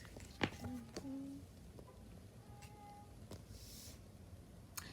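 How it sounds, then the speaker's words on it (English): A cat meows a couple of times in the background, faint and drawn out, amid quiet room noise and soft footsteps. "some of you guys may hear our cat Stormy in the background meowing"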